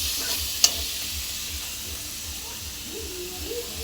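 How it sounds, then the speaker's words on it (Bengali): Spice masala frying in a pan for a lote fish curry gives a steady sizzle and hiss, with soft stirring scrapes and a low rhythmic pulsing underneath. "দিয়ে এটা ভালো করে মশলাটা কষে নেব।"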